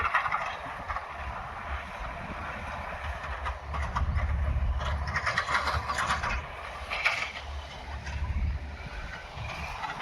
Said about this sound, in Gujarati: ટ્રેક્ટર આવી ગયું, આપણે રોટાવેટર કાઢવાનું ચાલુ હોય.